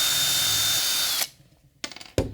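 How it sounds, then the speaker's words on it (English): Power drill boring holes in a frame leg: a loud high whine for over a second, then it stops, followed by two short bursts of drilling. "So I need to drill some holes manually."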